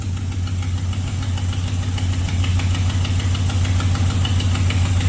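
The engine of a 1970 Chrysler Newport convertible idles steadily up close, a loud, even rumble with a regular low pulse and a slight knocking texture throughout.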